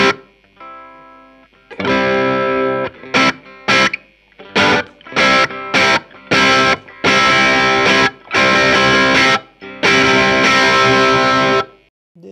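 An electric guitar plays through an effects pedalboard with the buffer switched off, a series of loud distorted chords and stabs separated by short silences.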